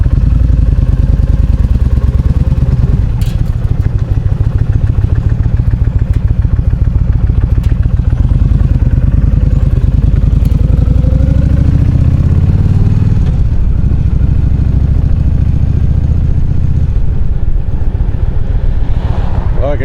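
Motorcycle riding at about 30 mph in cold weather with handlebar muffs fitted, engine rumbling steadily under heavy wind buffeting close to the rider, with occasional clatters and bumps throughout.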